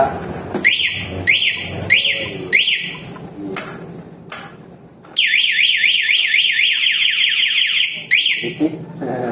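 A loud motorcycle alarm on a Honda Supra X 125 cycles through rapid rising warble tones, with short bursts at first and then a long continuous wailing run near the mic.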